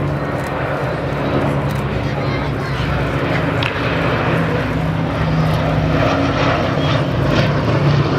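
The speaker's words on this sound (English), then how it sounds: "17G, an example of which we see here, as Sally B runs through this time with bomb doors open." A B-17G bomber flies past with its bomb doors open at an autumn airshow at Duxford, its piston propeller engines giving a steady, loud, droning rumble throughout while a commentator talks over it.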